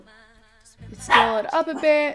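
A pet dog named Draco barks and yips in a few quick bursts near the microphone, partly overlapping a man's speech.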